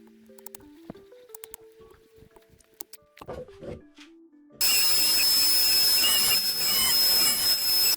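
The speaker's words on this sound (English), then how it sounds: "All right, got that drilled out." A small drill bores the bill slot into a tiny wooden crankbait: soft scattered handling taps come first, then a loud, continuous whirring grind starts about halfway and runs to the end.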